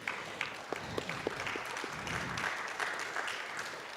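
Audience at a summit panel session claps together as the session closes, a steady moderate patter of many hands in a hall with a few sharper individual claps standing out.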